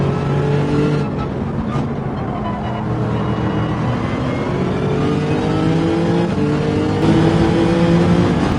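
A race car engine in Gran Turismo 7 during a World Series Nations Cup final race, droning loud and continuous as the car accelerates and shifts, with pitch rising and falling throughout.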